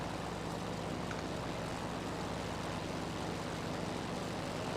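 Steady propeller-engine drone of a Flying Iron Spitfire warbird in a flight game over the Kodiak Archipelago, Alaska, a continuous loud hum filling the whole stretch with no voices.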